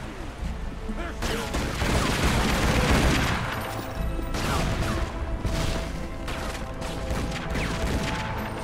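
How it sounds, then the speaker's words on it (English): Dense, continuous barrage of explosions and gunfire-like booms from the video game Tomb Raider: Legend during a boss fight, loud and crowded throughout with no pause. "A lot of exploding things around here"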